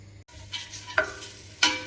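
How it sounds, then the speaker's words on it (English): Onions cooking in vegetable oil in a pot for a vegan pumpkin kebbe, with a soft steady sizzle under a few brief scraping stirs, close by, with no talking. "In my pot, I'm going to add some vegetable oil and I'm going to cook the onions in."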